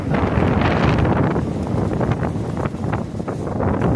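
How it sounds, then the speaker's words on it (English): Strong wind gusts roar continuously across an open wooded spot by a trapline, buffeting the microphone with loud broadband rumble that swells and eases slightly over the whole stretch, with no voices. "That wind really picked up though since I got here."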